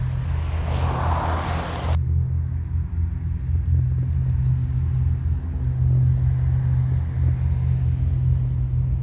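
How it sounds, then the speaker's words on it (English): Cars drive past a road junction in an English village, a steady low rumble of traffic that swells with a brief burst of broadband noise at the start and then holds as a constant drone. "I'm saying this while all these cars are going by"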